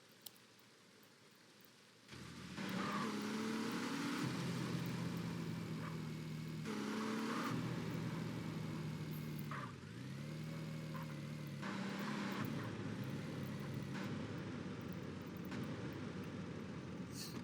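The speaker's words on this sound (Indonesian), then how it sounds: "Sabar, keluarin mobil dulu." A car engine starts up and idles, then revs as the car is driven out, with a steady hum holding for the rest of the clip in a quiet space.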